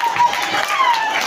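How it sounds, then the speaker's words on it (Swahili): A brief patter of audience applause at a church testimony gathering, blended with murmuring voices. "Pigezu makofi kwanza."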